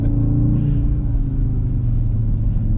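An Audi RS Q3 drives along a mountain road, its engine a steady, close, low rumbling drone heard from inside the car, with no talking.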